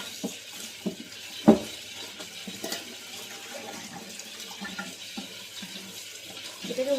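Running tap water pours steadily over a fish being washed in a sink, a continuous close hiss broken by occasional splashes and knocks.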